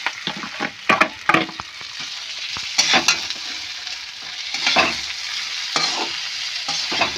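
Marinated rice with raisins being stirred and fried in a pan, giving a steady sizzle broken by repeated scraping strokes of a spoon against the pan, close and clear with no talking.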